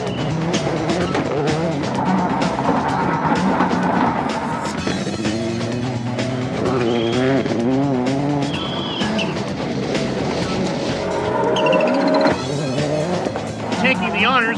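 World Rally cars at the 2003 Rally of Turkey tear through a short sprint stage, with engines loudly revving and shifting up and down and tires squealing almost continuously, close and intense.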